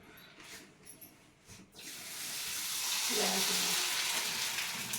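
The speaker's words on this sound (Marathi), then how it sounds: "ते बघा अशा पद्धतीने तळून घ्यायचे" Homemade chips fry in hot oil, a broad sizzle swelling up after a quieter start and holding strong and close, with no voices.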